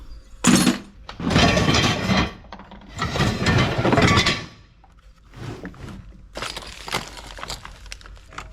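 Scrap nuts, bolts and small brass pieces clink and clatter in several loud bursts, heaped and sorted by hand, with quieter gaps and rattling between pours.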